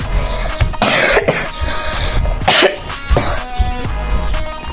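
Loud, close coughing and throat clearing from one person, several rough bursts and hacking rasps spread over a few seconds against a dense noisy background.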